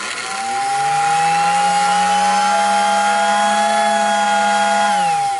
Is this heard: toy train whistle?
yes